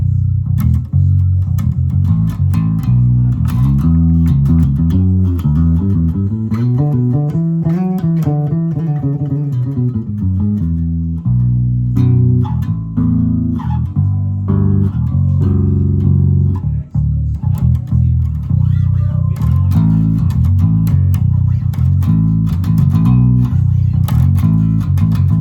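An active five-string bass guitar plays a low, full run of notes with a sliding melodic passage that climbs and falls, loud and close for the whole stretch, no talking.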